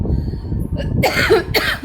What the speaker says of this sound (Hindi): तो उससे मुझे खांसी हो रही है